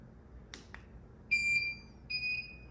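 Two short electronic beeps from Visico VC-600 studio strobe flash units, a high steady tone repeated twice, sounding clearly after a couple of faint clicks in a quiet room.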